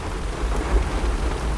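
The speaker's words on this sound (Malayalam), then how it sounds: "മഴ തന്നെയല്ലേ." Heavy downpour with rolling thunder, a dense steady hiss of rain over a deep low rumble that swells briefly, with no voices.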